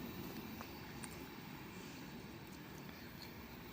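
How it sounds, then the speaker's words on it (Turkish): A low, steady rumble of a train departing Shumen station in Bulgaria, with rattling wheels and a faint distant squeal, heard from some distance. "tren garı anlamında ve tren gidiyor şu an Varna'ya"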